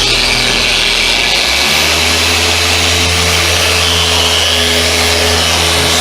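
Machine polisher with an orange correcting pad running at slow speed on an RV's paint while applying sealant, a steady loud motor drone that shifts to a lower hum partway and holds alone.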